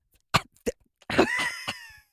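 A few short, sharp coughs while eating Triscuit crackers, followed by a longer strained, rasping cough-like exhalation, close and loud with no talking.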